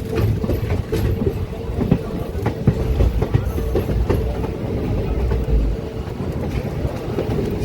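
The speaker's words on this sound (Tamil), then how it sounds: "ஸ்டார்ட் ஆகிடுச்சிங்க நம்ம ட்ரெயின்." A passenger train pulling out of Madurai Junction on the Madurai to Rameshwaram line rumbles loudly and continuously, with wheels clacking over rail joints in an irregular rhythm close by.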